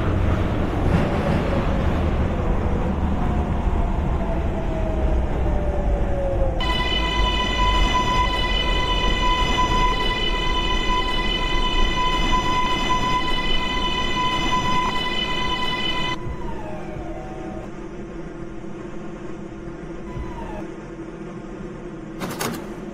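A two-car R142A subway train in the OpenBVE simulator on the Sheppard Line runs steadily, with a loud rumble throughout. A high tonal whine joins midway and holds for about ten seconds before the motor sound winds down as the train slows.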